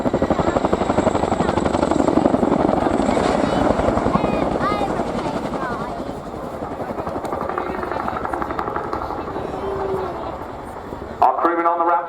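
A military helicopter comes in to land at an airshow, its loud, steady rotor thump and turbine whine holding throughout, with a brief clatter near the end.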